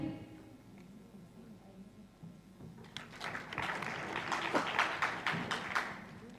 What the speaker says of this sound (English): as the delegates stand, kindly clap